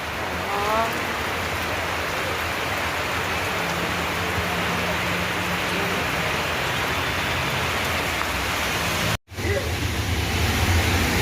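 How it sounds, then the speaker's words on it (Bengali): Steady rain pours outdoors, a dense continuous hiss filling the scene with a brief dropout near the end; a faint voice comes through underneath. "এখনও বৃষ্টি হচ্ছে"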